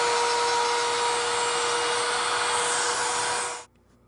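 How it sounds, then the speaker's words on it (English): A router bit cuts into wood for a small cabinet, giving a loud, steady high whine that runs for several seconds and then drops away sharply into near silence. "So now I'm going to drop it down this way over the router bit"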